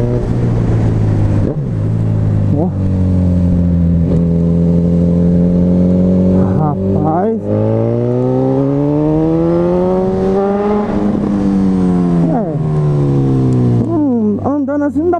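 Honda CB 1000R motorcycle fitted with a K&N air filter and a GRS titanium exhaust, engine pitch climbing repeatedly through gear changes at high speed, loud and close, with a man's brief exclamations over it.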